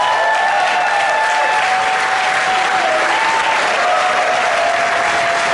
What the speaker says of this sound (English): I need thunderous applause for that person whenever he shows up.